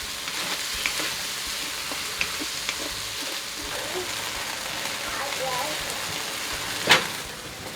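Moose meat frying in a pan in a tiny kitchen, giving a continuous close sizzle and crackle with scattered small pops and one sharper spatter near the end.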